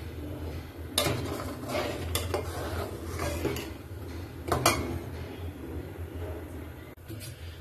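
Rice is washed in a cooking pot at home, with scattered metallic clinks and scrapes over a steady background. A few sharper knocks stand out at uneven intervals.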